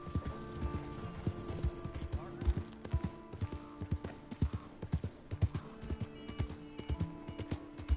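Horse hooves clip-clop in a steady walking rhythm in the Red Dead video game, close and fairly loud, with an occasional snort or whinny and a voice speaking over the hoofbeats.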